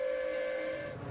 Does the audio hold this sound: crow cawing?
no